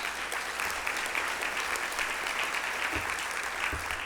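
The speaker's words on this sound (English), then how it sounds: "Let's give them a round of applause as well." Dense, sustained applause from an audience at a Portsmouth State of the City event at Rivers Casino, continuous clapping filling the room from start to end with no gaps.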